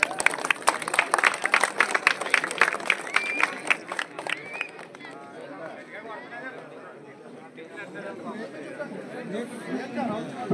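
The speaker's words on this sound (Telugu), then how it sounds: "అందరూ కూడా ఒకసారి గట్టిగా చప్పట్లు కొడదామండి." Crowd at a ceremony honouring Mahatma Gandhi breaks into a burst of sharp clapping that fades after about four seconds into a murmur of chatter and voices, with people talking throughout.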